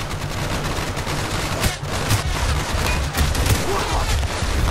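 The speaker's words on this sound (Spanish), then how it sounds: "¡Ametralladora en la torre!" Dense, sustained machine-gun fire from Call of Duty Black Ops rattles loudly and continuously, with overlapping bursts and a few sharper cracks standing out from the roar.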